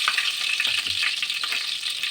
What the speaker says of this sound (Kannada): ಎಣ್ಣೆ ಸ್ವಲ್ಪ ಸಾಸಿವೆ ಹಾಕೊತಿದ್ದೀನಿ. ಯಾವುದೇ ಒಗ್ಗರಣೆಯಲ್ಲಿ ಸಾಸಿವೆ ಸಿಡಿದ್ರೆ ಅದು ಟೇಸ್ಟ್ ಇರುತ್ತೆ.